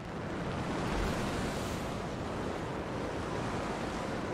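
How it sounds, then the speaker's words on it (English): A waterfall in the video game Anthem gives a steady, loud, broadband rush of falling water like surf, unbroken for the whole stretch, with no talk over it. "Look at the waterfalls. They're going backwards."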